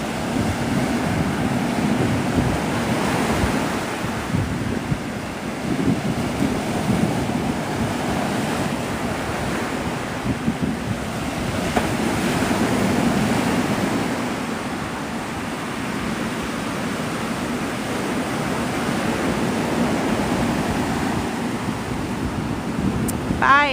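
Ocean surf washes onto a Florida Panhandle beach in continuous rolling waves, mixed with wind buffeting the microphone, with no clear voices.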